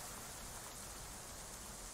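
Steady rain falls in a marshy setting in the medieval colony-building game Going Medieval, a soft continuous hiss of drops on surfaces with no break and no voices.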